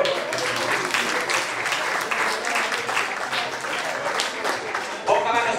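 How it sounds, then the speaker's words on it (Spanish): A poetry slam audience claps for the jury, sustained applause with some voices mixed in, followed by a brief sharper sound near the end. "un aplauso para el jurado, por favor"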